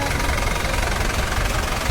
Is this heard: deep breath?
no